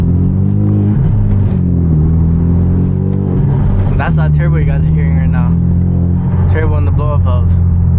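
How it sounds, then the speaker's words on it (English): Turbocharged Hyundai Genesis Coupe with over 300 horsepower driving at night, its steady engine drone and turbo whoosh running loud and continuous while someone talks over it. "That's that turbo you guys are hearing right now."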